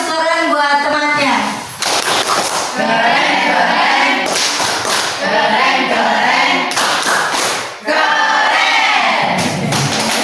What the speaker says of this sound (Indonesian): Oke, tepuk tangan buat temannya.